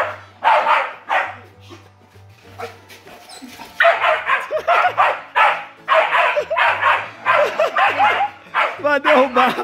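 A dog barks repeatedly and loudly near a jackfruit tree on a rural family farm in Brazil, with rapid bursts of barks and yips mixed with people talking over it.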